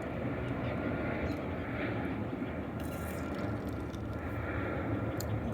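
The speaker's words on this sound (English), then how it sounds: "And there goes another airplane." A distant airplane drones steadily overhead near an airport at night, a low broad rumble with no other clear sounds.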